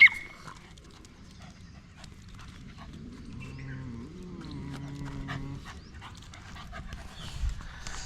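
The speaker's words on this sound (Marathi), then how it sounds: "आता निफ्टीचे काय आले की ते जे लोकल डॉग आहे त्यांच्या संग थोडीशी मैत्री होऊ राहिले" A local Indian desi dog pants quietly and steadily at close range, with a few soft whining tones mixed in and no talking.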